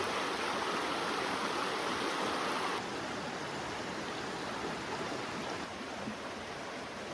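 A mountain stream flows past a log, a continuous rushing, splashing wash of water that stays steady and fairly close, with no voices.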